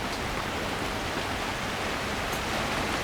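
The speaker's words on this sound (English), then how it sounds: "it's been raining pretty hard, and it's nice and dry in here with that 2 tarps up on the side" Heavy rain falls on tarps strung up at the side of a shelter, a continuous dense hiss of drops at steady, moderate loudness with no voices.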